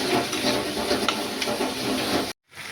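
Masala and tomato fry in a pan for Bengali egg curry, giving a steady, close hiss and sizzle with faint crackles before a sudden brief silence near the end.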